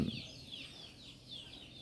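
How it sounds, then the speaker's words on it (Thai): Laying hens cluck on a mixed farm with fish ponds and ducks, a faint, repeated soft clucking in the background with no talk. "ไก่ไข่นะครับ ไก่ไข่เป็นสวนเกษตรผสมผสานนะครับ"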